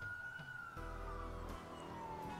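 Police car sirens wail in the Watch Dogs video game, a rising and falling tone from approaching cars, fairly faint under a low rumbling background and brief thuds.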